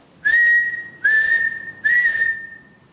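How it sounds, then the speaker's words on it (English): Three rising whistles, each held for about half a second, come in a steady sequence during a night-time ghost hunt, clear and fairly close against a quiet background. "you hear the 2 whistles and then stop"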